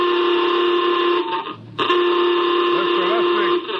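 General quarters alarm aboard a spaceship in an old radio drama: a loud, steady electronic horn blaring continuously with a brief break, while faint voices murmur beneath it.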